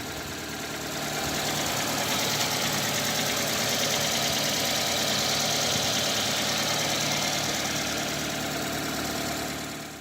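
A 1994 Toyota Starlet EP82 engine idling steadily, a continuous close mechanical hum with a faint knocking texture that fades in at the start and holds even throughout.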